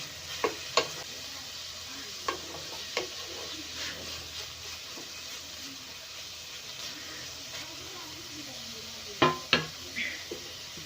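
Noodles with cabbage stir-fried on high flame, a steady low sizzle under scattered clinks and scrapes of a spatula against the pan, with a few sharper knocks near the end.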